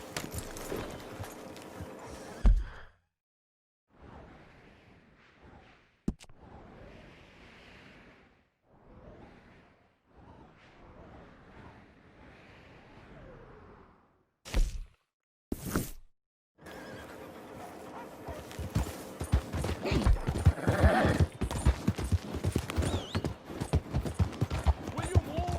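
Rhythmic hoofbeats of a horse in Red Dead Redemption 2 clop at a steady gait, near and clear, after a quieter middle stretch with a few isolated noises, building into busier galloping with other sounds mixed in.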